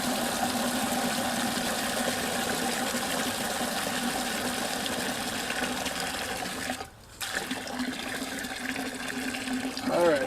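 Water from a well pump at an off-grid cabin in Northeast Texas pours steadily into a container, a continuous close rushing stream that briefly cuts out near the end before resuming.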